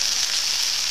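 Bacon frying in a pan for a bacon butty, a loud, close, steady hiss of sizzling fat with no pauses or voices.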